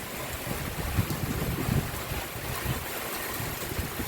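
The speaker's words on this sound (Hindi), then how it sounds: "ओ हवा भी चल गई ठंडी ठंडी।" Cool wind blowing steadily with rain falling outdoors, a continuous broadband rush and patter with slight gusts, close to the microphone and without talk.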